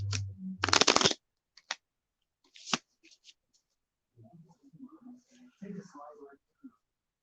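Tarot cards are shuffled in quick bursts: a loud riffle up close near the start, then shorter flicks. A singing bowl is struck, and people talk quietly toward the end.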